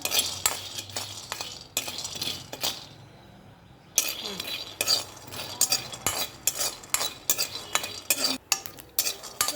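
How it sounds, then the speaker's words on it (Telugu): Peanuts roasting in a kadai are stirred with a metal utensil, giving repeated close scraping and clinking strokes against the pan with a brief quiet pause partway through. "ఆ కడాయిలో పల్లీలు అయితే ఫస్ట్ వేయించుకుందాం బాగా."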